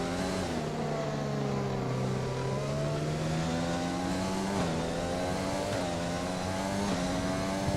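An F1 racing car engine in the F1 2020 video game revs hard and continuously, its pitch dipping and climbing through gear changes, loud and close with no talking.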